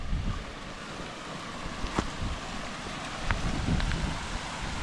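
A fast-flowing river rushes below a mountain hiking-trail crossing on the way to Europe's highest village, giving a constant churning hiss mixed with gusty wind buffeting and no voices.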